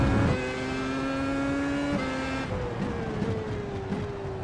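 Old Williams Formula 1 car engine in the iRacing simulator, a high-pitched engine whine holding steady, then dropping and changing pitch as gears shift, heard alone without talk.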